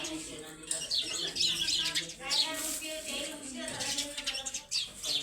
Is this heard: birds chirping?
yes